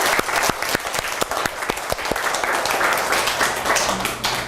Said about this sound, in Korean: 박수 한번 정말